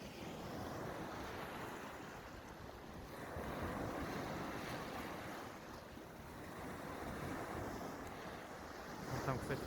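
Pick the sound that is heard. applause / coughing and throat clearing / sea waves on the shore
sea waves on the shore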